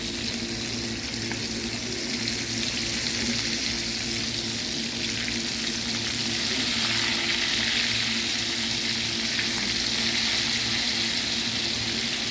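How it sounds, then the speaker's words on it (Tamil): Steady, close sizzling of fish frying in hot oil, a dense crackle that continues evenly throughout with no talking. "இந்த மாதிரி பொரிக்கணும்."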